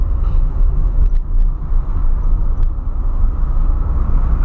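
A Ford Fiesta drives along, its engine and road noise a loud, steady low rumble heard from inside the car, with a few faint ticks over it.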